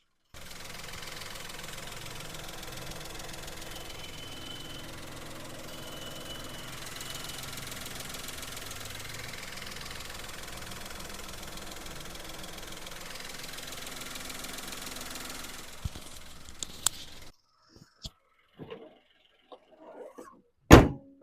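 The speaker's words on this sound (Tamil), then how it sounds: "நம்ம வண்டியோட இன்ஜின் சவுண்ட் எப்படி இருக்குன்றதை அந்த வீடியோவில் காட்டுறோம்" A 2015 Maruti Alto K10 automatic car engine idles steadily with a low, even rumble for most of the clip, then cuts out, leaving a few scattered thumps and clicks.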